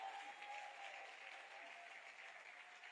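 Church congregation applauding during a Sunday sermon, a dense, steady wash of clapping heard at a distance and fairly faint throughout.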